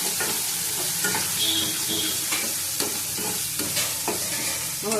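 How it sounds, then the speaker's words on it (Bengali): Prawn curry sautéing and being stirred in a pan, steady sizzle with repeated scraping strokes of a spoon, close and moderately loud, no talking. "আবার ভালো করে কষিয়ে নেবো।"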